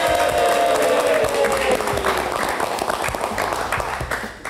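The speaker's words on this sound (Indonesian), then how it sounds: "Tepuk tangannya dulu dong." A studio audience at a live Indonesian talk show breaks into loud, dense applause mixed with crowd cheering, which starts strong and tapers slightly toward the end.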